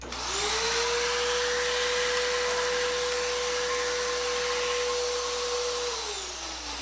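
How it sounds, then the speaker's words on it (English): A vacuum cleaner runs steadily for several seconds, sucking debris out of a sheet after a hole has been cut and deburred, with a constant loud whine that winds down at the end. "I'm going to vacuum out the sheet."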